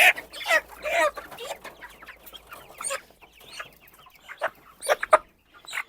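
A six-week-old rooster clucks and squawks in short agitated bursts, close by, with brief pauses between calls.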